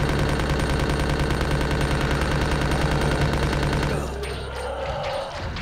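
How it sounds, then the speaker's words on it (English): Rapid, continuous machine gun fire in Resident Evil 2, loud and close, rattling for about four seconds before cutting off into fainter rumbling and scattered noises. "I'm just gonna keep shooting it with this machine gun"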